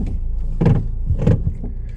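A worn steering shaft in an old, long-neglected Saturn car makes two distinct clunking knocks about half a second apart, close and moderately loud, with faint rattles between them and no talking.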